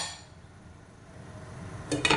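Metal clinks and clatters near the end as a lid is set onto a cooking pot of shrimp sinigang with onion and tomato, following a quiet stretch of low kitchen background noise.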